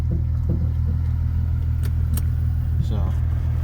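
A car with a freshly rebuilt engine and poly mounts idles steadily at close range, a deep continuous rumble with a few light clicks.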